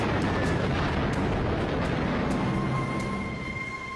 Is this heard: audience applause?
no